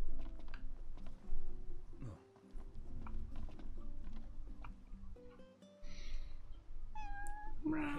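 A cat meows a few times in Final Fantasy XV, soft short mews amid quiet game ambience, clip-clop footsteps and brief tonal chimes, with no clear talk over it.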